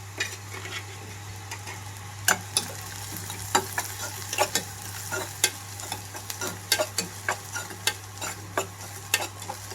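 Cluster beans frying with onions, turmeric and salt in a pan, under a constant sizzle with frequent sharp spatula taps and scrapes in an irregular rhythm. A low steady hum runs underneath, all close up.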